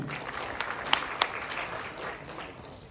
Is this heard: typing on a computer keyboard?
no